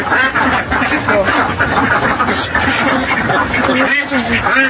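Ducks on a duck farm keep up a loud, dense, continuous chorus of quacking close by while people talk underneath.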